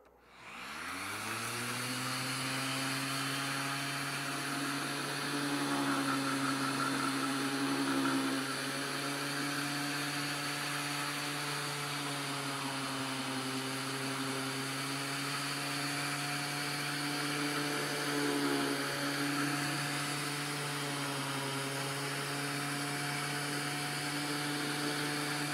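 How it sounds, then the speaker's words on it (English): A steady, loud motorized whine with a low droning hum runs continuously, like a power sander drawing through a vacuum, with slight pitch wobbles. "let's do some sanding. And I have this hooked up to my little"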